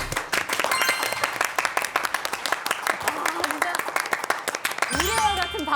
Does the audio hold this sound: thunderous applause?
yes